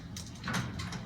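A GO train sliding door closing at Pickering station, heard as a short, moderately loud mechanical swish and thud from the door operator over steady platform rumble.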